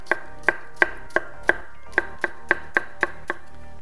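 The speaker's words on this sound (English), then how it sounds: "I'm going to julienne this nice thin slices here." Knife julienning cucumber into thin slices on a cutting board: about a dozen crisp, evenly spaced chops with a hollow wooden knock, close and clear, no voices.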